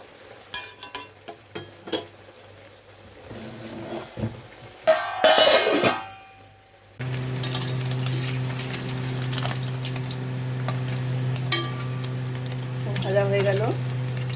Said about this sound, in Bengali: আমাদের মাছ ভাজা হয়ে গেছে